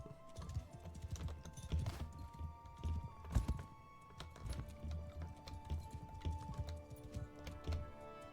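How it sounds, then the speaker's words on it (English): Horse hooves clip-clop in a steady rhythm as a rider travels through a village in the video game Bannerlord, sounding close and moderately loud over soft game ambience. "Riding a horse is a little more difficult in Bannerlord than in Warband."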